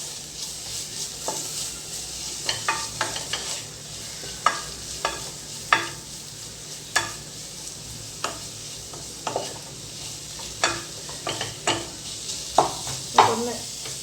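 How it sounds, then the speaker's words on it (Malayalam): A spoon scrapes and taps repeatedly as tomato is stirred into a masala for bread egg puffs in a pan, irregular strokes over a gentle steady sizzle. "തക്കാളി ഒന്ന് ഈ മസാലയിലൊന്ന് വളർന്നു വരണം"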